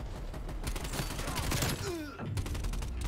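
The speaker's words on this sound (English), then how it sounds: "this shotgun is something different" Street Sweeper shotgun fire in Call of Duty Black Ops Cold War, a dense run of loud, rapid blasts that keeps going across the whole stretch, with game effects mixed in and no one talking.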